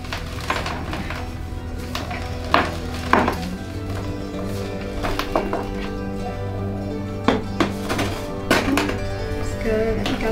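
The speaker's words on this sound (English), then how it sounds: "I will pot up both plants in one plastic pot, and I will be using a mix of premium potting soil and perlite in this repot." Repotting two peperomia plants into a plastic pot with premium potting soil and perlite: close scrapes, rustles and dull plastic thunks and taps at irregular intervals over a steady background hum.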